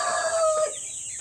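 A chicken from a small backyard poultry coop gives a short, close crowing call lasting about a second, clear and fairly loud.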